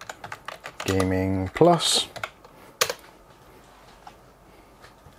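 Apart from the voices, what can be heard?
typing on a computer keyboard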